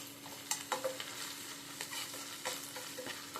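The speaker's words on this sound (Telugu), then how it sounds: "ఇట్లాగ బాగా వేపుకున్నాము దోరగా." Eggs with a little ginger paste frying in a pan, a steady soft sizzle with occasional scraping stir clicks, close and quiet, no voices.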